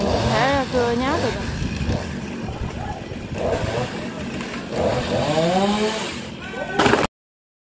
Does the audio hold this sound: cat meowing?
no